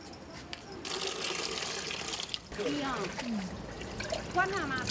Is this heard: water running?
yes